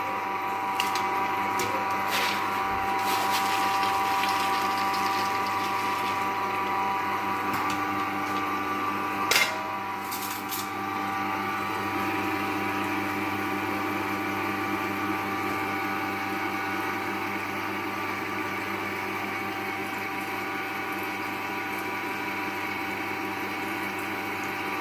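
An oil extractor machine runs steadily while pressing coconut pieces and groundnuts, a continuous loud mechanical whirr and grind with a brief knock partway through, no voices.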